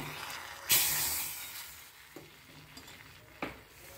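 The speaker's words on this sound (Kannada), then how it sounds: "ಈಗ ಇದಕ್ಕೆ ತುಪ್ಪ, ಸಾಸಿವೆ, ಜೀರಿಗೆ, ಇಂಗು, ಮೆಣಸು ಹಾಕಿ ಒಗ್ಗರಣೆ ಹಾಕಿದ್ದೀನಿ" Ghee tempering with mustard seeds, cumin, asafoetida and pepper: a sudden loud sizzle bursts up, then settles into a softer hiss while a spoon scrapes and taps the pan a couple of times.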